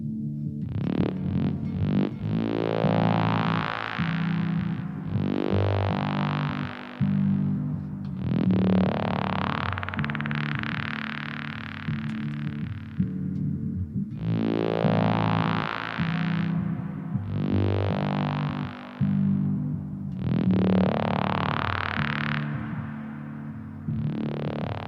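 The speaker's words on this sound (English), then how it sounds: "Let's put on a synth from the HXeffects." Electric guitar run through a Line 6 HX Effects synth patch with reverb, into a medium-gain amp, playing repeated swelling notes that bloom and sweep upward, loud and sustained with short gaps between phrases.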